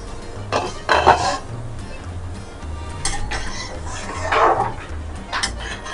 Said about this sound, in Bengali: এই যে ঢাকনাটা খুললাম